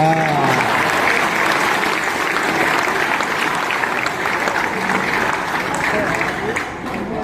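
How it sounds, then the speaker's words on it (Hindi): Audience applause at a Hindi kavi sammelan poetry gathering, a loud sustained roar of many hands clapping, with a voice briefly audible at the start. "और तालियां उठेंगी"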